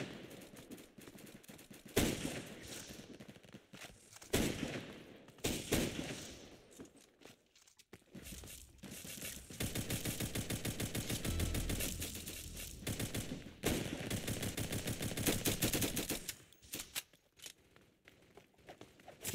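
Rapid video game gunfire, with bursts of automatic shots rattling in quick succession and a dense stretch of sustained firing midway, close and loud throughout.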